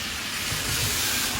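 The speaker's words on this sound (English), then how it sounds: "Another car going by." A car drives past on a rain-soaked road during a heavy downpour in East Haven, Connecticut, its tires making a broad, rushing hiss that swells slightly mid-pass over the steady rain.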